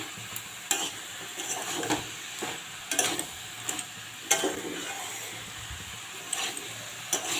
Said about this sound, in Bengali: এবারে কেটে রাখা আমি নেনুয়াটা দিচ্ছি। নেনুয়াটা দিয়ে বেশিক্ষণ কষানো যাবে না